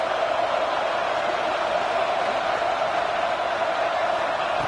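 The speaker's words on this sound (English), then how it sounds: "Listen to the crowd energy here in the early going." A football stadium crowd roars as a continuous, dense wash of cheering and noise, steady and loud throughout with no clear single voice standing out.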